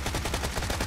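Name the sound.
SMG gunfire in a video game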